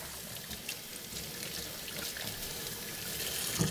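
Water from a kitchen sink tap runs over winemaking equipment as it is rinsed, a soft steady stream with light splashing and trickling, fairly quiet and close, no voices.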